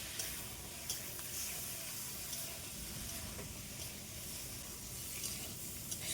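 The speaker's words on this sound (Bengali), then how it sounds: "সজনের ডাঁটা দেওয়ার পর ভালোভাবে কষিয়ে নিতে হবে।" Drumsticks and potatoes being sautéed for a Bengali fish curry give off a faint, steady sizzle with light stirring scrapes, low and continuous throughout.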